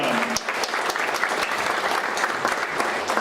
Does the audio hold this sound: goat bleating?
no